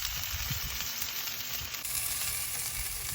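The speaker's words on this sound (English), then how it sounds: "I'm getting the thickness of it seared" Filet mignon sears in a hot pan, a steady broadband sizzle holding at an even level throughout, close and continuous with no talking.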